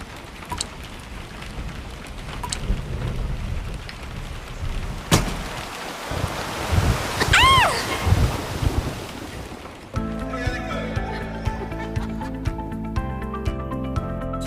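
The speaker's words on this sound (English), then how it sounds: "There's going to be a storm. Storm? It's not a storm. That's just a little rain." A simulated rainstorm with wind roars in gusts, rising to a louder surge before cutting to a different background with music-like tones.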